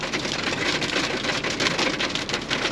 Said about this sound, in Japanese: やばい、ひょう降ってきた。